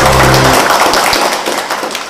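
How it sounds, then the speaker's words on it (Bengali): An audience claps at a company gathering, a dense, steady patter of hands that fills the whole stretch and tapers slightly toward the end, with a low hum at the start. "আর একবার হাততালি।"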